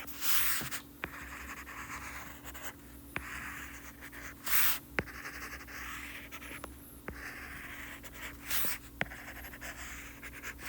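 A pen scratches out short strokes while a graph is drawn, a quiet, irregular scribbling with brief taps and pauses and no talking.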